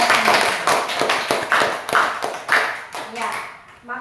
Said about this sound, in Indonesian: Kita beri tepuk tangan buat kita semua.